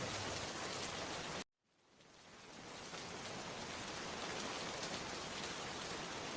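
Heavy rain pours in Jamnagar near Lakhota Lake, a dense, steady wash of hiss. It briefly cuts out once, then swells back to a constant downpour with no voices.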